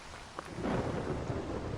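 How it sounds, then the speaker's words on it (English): Steady rain with rolling thunder in the Solarpunk video game, a broad continuous wash of downpour that swells after a brief distant rumble and stays fairly loud throughout. "Oh, and then of course it's raining again."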